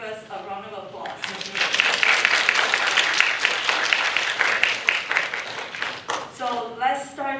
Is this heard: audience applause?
yes